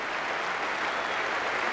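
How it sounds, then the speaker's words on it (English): A crowd at an Australia versus India cricket Test match gives a sustained ovation, dense steady clapping that fills the ground from start to finish without a break. "gets a wonderful ovation"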